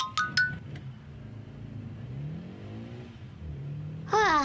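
Cartoon car on a driving-test track, a mid-pitched engine revving and rising under faint background, with a couple of sharp clinks at the start and a bright burst near the end.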